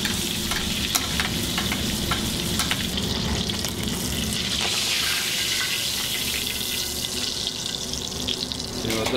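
Butter foaming and sizzling hard in a pan while it is spooned over to baste, a dense, steady crackling hiss that continues without pause and sounds close.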